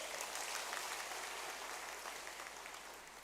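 An audience at a large religious gathering in Dharmasthala applauds, a faint, distant patter of many hands clapping that slowly fades.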